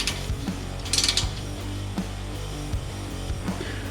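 A ratchet wrench tightens header fasteners on a 1966 Mustang, with steady close clicking strokes and a few sharper metallic ticks in a quiet garage, no talking.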